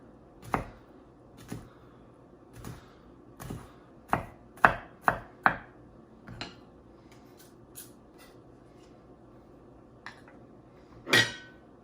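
A knife chops jalapeno and garlic on a cutting board in a string of sharp, separate strikes, some close together, set against a quiet room with no talk.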